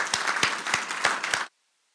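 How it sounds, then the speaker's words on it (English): Audience at a town council meeting breaks into applause, a dense burst of clapping with a few louder claps standing out, lasting about a second and a half before cutting off to silence. "Give him a big round of applause, please."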